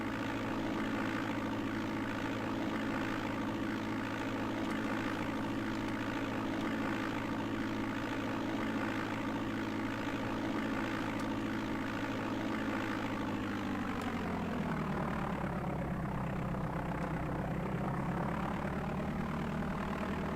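A simulated propeller-aircraft engine in the DOS game Flight Simulator 5.1 drones steadily at full throttle, a constant loud buzzing hum that drops in pitch partway through and keeps going without any talk.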